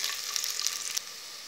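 Onions fry lightly in a pan of hot oil with a brief, steady hiss, brighter for about a second and then a little quieter.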